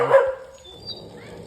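A dog near a village temple and mango grove gives one short, sharp bark up close, then goes quiet against faint background noise.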